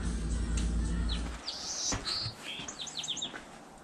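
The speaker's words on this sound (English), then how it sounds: "Wow, you guys hear that? The birds are singing." Birds sing in quick bright bursts close by, a string of chirps and trills following a low rumble that fades out.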